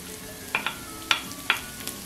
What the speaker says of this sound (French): Là, on va faire de l'huile d'ail en même temps avec du poireau